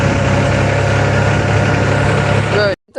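A tractor engine idles loudly and steadily up close with a low rumbling drone, then cuts off abruptly near the end.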